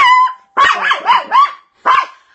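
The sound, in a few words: toy poodle barking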